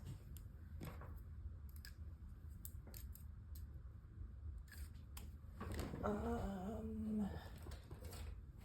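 Medical scissors snipping fabric close to stitching, a few quiet, sparse clicks and cuts at close range over low room noise, with a brief voice partway through.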